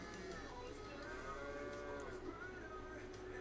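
A cow lets out a long, drawn-out moo that wavers in pitch, heard fairly close and continuous against quiet outdoor background, with no one talking.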